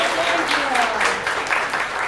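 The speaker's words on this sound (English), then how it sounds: "So let's give a round of applause for Leslie Ann saving my ass here tonight." An audience at an open mic in a café claps continuously and loudly, with a voice rising briefly over the applause at the start.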